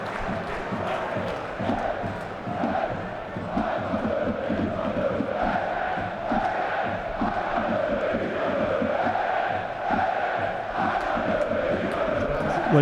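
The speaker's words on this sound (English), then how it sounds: "if the second half efforts of the 1860 players hadn't got the crowd rocking, the goal certainly has" A stadium crowd at a third-division 1860 Munich versus Bayern Munich II football match roars after a goal, a dense sustained swell of cheering and chanting that carries on without a break.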